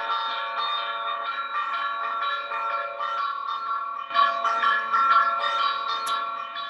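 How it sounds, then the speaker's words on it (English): A church bell rings with rich, lingering overtones that hum steadily, then a fresh strike swells the tone louder partway through. "So in the show, every 22 minutes, there was a sound of this church bell."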